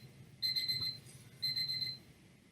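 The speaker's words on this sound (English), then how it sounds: "I just want the alarm to go off there." Electronic alarm clock beeping in two quick bursts of rapid high-pitched pips, each burst about half a second long, fairly quiet over a low background hum.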